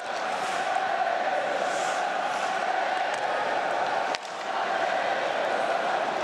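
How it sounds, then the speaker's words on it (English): Crowd at an ice hockey arena in Paris during a world championship game, a loud continuous roar of cheering and chanting with a sharp knock partway through. "Crowd getting it going here in Paris"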